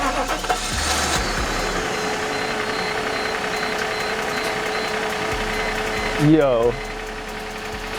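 Engine of a former $120K car turned budget racecar cranks and fires up after new spark plugs and an ignition coil, settling into a steady idle with a short rising rev near the end; a voice speaks briefly.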